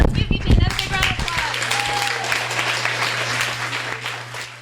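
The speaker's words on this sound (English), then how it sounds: "All right, let's give BJ another big round of" An audience at a bookstore author reading applauds, starting with a burst of clapping that settles into a steady wash of applause, with a voice over it at the start.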